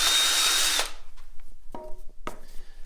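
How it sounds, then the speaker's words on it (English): A power drill with a very fine bit whirs steadily inside the end of a graphite golf shaft to clear out glue, then cuts off, leaving a few light clicks and handling knocks. "So I've got a really fine drill bit"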